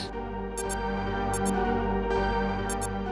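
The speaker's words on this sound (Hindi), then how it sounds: "ये घड़ी की अलार्म की आवाज है सर" An alarm clock sounds repeated paired electronic beeps at regular intervals, about one double-beep every 0.7 seconds, over a steady low hum.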